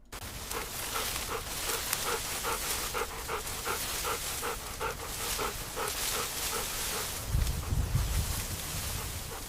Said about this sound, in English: A golden retriever running through a sun-drenched wheat field at magic hour.